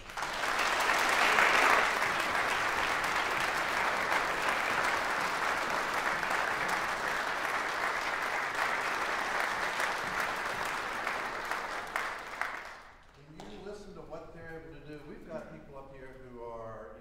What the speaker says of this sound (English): So another round of applause for the band directors.